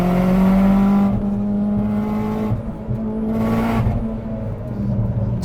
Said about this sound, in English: Lots and lots of pops and bangs, loads of turbo whooshes.